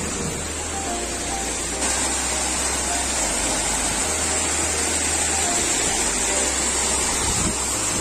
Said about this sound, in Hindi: ये रहा छोटा वाटरफॉल।